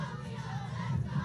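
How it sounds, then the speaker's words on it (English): A youth club crowd cheers and shouts steadily for the Columbia Lions home team at a Columbia versus Dartmouth game, a dense continuous roar of many voices with no single speaker standing out. "The crowd are getting into it as well, supporting the home team"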